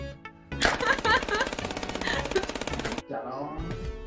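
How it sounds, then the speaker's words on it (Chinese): Machine gun fire in the shooter-chess game FPS Chess: a dense, rapid burst of shots lasting about two and a half seconds, loud and close, with quieter game sounds before and after. "你这机关枪太过分了！"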